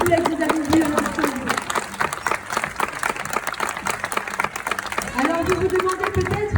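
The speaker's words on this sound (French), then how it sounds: "Je vous demande d'applaudir bien fort Luna et Shuka, s'il vous plaît, que vous avez vu à l'instant." A crowd claps for performing sea lions at a marine show, a loose burst of applause and cheering in the middle, with a presenter talking over a microphone at the start and again near the end.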